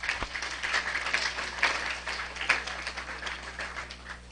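Applause for an engineer introduced at an IECEP chapter quiz event: moderate, steady clapping from a modest crowd, fairly even in loudness over a few seconds against a low hum.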